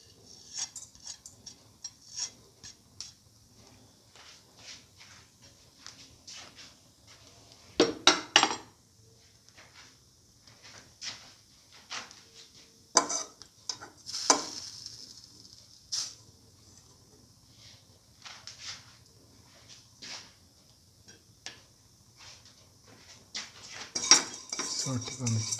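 Vermicelli pasta added to a pan and stirred with a utensil for a banana milk pasta dish, intermittent metallic scrapes and clinks against the pan, separated by quiet gaps.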